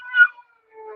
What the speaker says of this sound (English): she's meowing at something